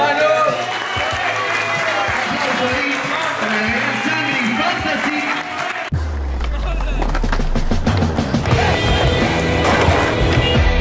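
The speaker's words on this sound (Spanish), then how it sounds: "aplauso, hermano" Applause and crowd noise at a skateboard launch event for a new board model, loud and continuous, shifting midway into a denser, boomier mix with skateboard rolling and clatter, voices mixed in.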